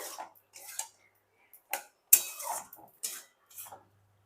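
The lid comes off a cooking pot of boiled vegetables for chutney, giving a few sharp metallic clinks and light clatters, close by in an otherwise quiet room.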